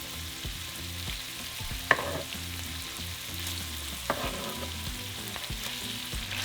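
Nopales and chorizo fry together in a pan with a constant close sizzle, low rhythmic stirring and a couple of sharp utensil knocks against the pan.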